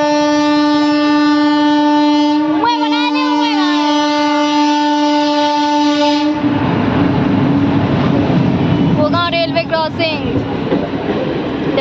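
A long, loud train horn sounds as a train comes by, then the heavy roar and rumble of the passing rail cars follow, with voices talking over the noise partway through.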